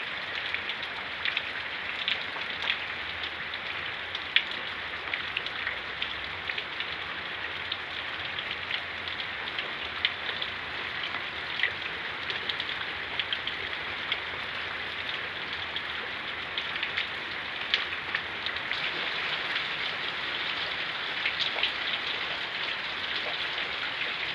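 Steady rain and hail falling and pattering on surfaces during an April thunderstorm, with scattered sharper taps throughout, continuous and even.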